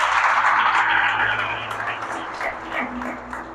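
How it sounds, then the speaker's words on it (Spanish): A church congregation bursts into loud applause and clapping at a worship service, the clapping swelling at first and then slowly tapering off, with some voices and cheering mixed in. "Bríndale un aplauso al Señor."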